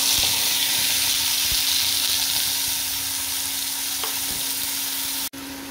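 Masala frying in hot oil for an Odia besara bhaja, a dense close sizzle that holds steady throughout before a brief cut near the end, with no voices.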